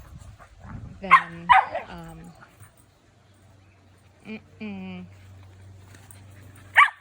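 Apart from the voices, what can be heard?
dog snapping and barking at a puppy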